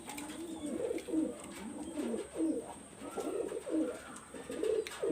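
Pigeons, including Pakistani high-flyer breeds, coo in repeated rolling phrases close by, several overlapping calls rising and falling throughout with no talking.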